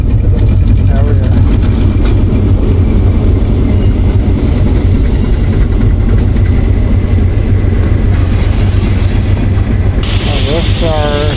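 A train passes at close range on a railway line in Dalian, China, with loud steady rumbling throughout and wheel squeal rising near the end.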